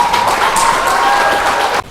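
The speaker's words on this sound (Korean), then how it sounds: "큰 박수로 맞이해 주십시오." Loud, close applause in a conference hall at an academic symposium, greeting a speaker: dense clapping held steady for under two seconds, then cutting off abruptly.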